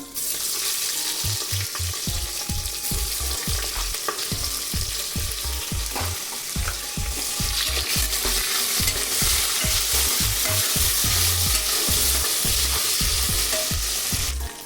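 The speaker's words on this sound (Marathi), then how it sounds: "कांदा टमॅटो घालून घेते आता" Onion, tomato and spices fry loudly in a pan, a dense, steady sizzle right up close, with a rhythmic series of scraping stirs throughout and no talking.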